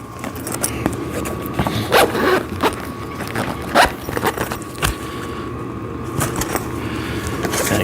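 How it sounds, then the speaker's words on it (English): Zipper sliding closed on the padded cover of a VEVOR sissy squat machine during assembly, heard as several short scratchy pulls close to the microphone over faint background noise. "And then you want to zip this up."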